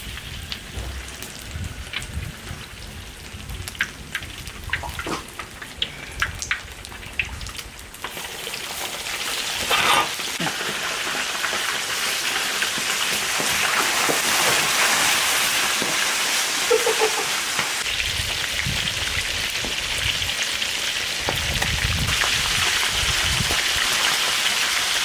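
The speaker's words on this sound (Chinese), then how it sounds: "把鱼裹上生粉，开始炸" Snakehead fish coated in starch deep-frying in a wok, a dense hiss of bubbling oil that builds and stays steady and loud, with scattered crackles and clatter early on.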